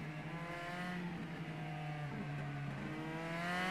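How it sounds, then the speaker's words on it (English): A Mitsubishi race car in the Copa Petrobras de Marcas racing game by Reiza Studios drones with a steady, close engine note that holds pitch, then climbs slightly toward the end, alone without talk. "I'm driving in a Mitsubishi."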